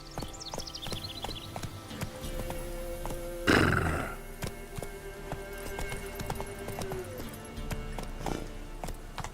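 Roach the horse in The Witcher 3 gives a sharp whinny partway through, with a steady clip-clop of hooves and game ambience running throughout, fairly quiet overall.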